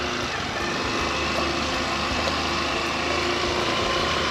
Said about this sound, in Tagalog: Hirap yung motor talaga.